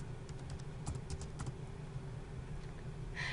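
Keys on a computer keyboard are tapped in a quick, uneven run of close clicks over a steady low hum, with the typing slowing toward the end.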